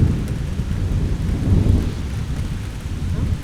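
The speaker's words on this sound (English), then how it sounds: "You get it. Torrential rain." Torrential rain pours down with deep, rolling thunder rumbling beneath it, a loud and steady storm recording played aloud with no voices over it.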